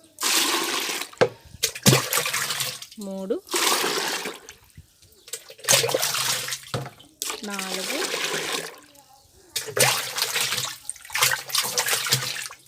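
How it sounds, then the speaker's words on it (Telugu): Mugs of water are poured one by one into a homemade soil fertilizer mixture for rooftop garden pots. Several separate splashing pours come close and fairly loud, alternating with a voice talking between them. "ఒక ఐదు మగ్గుల వాటర్ అయితే నేను యాడ్ చేసుకుంటున్నాను"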